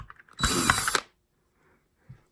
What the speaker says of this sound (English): So I have a different screwdriver with a Phillips head